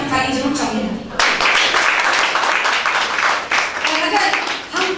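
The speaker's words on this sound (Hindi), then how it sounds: "इस बात पर मैं आपकी ताली जरूर चाहूंगी।" Applause from an audience at an International Women's Day seminar at the U.P. Press Club in Lucknow: a voice speaks briefly, then dense, sustained clapping from a roomful of people rises and fills the rest of the moment.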